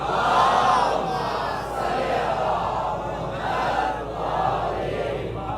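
Large congregation at a Muharram majlis in an imambargah loudly reciting salawat together, a sustained roaring mass of voices in repeated surges, dense and close, without a single speaker standing out.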